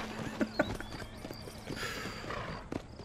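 Horse hooves clip-clop through a few quick steps in Red Dead Redemption, with a brief neigh and other game sounds around them, close and fairly loud.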